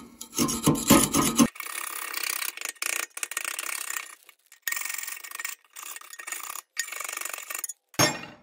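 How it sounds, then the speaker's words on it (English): A metal scraper grinds and rasps inside a Harman P68 pellet stove, breaking up and scraping out ash deposits in repeated close strokes with brief pauses between them. "I use the pointy edge to break up the things I can't get scraped out, and then the flat side to clean things down nicely"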